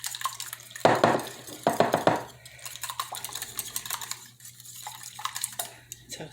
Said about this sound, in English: So I'm using a whisk because I really want to get some air in them